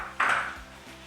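A metal lid set onto a pot of local goat curry with a single sharp ringing clink that fades quickly, close and alone.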